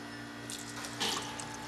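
Water poured from a tap or jug while making a mint and cilantro green chutney, a soft splashing that swells into a brief louder gush at close range.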